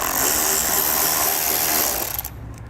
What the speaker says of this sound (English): we're going to be using a T30 Torx bit to pull them out.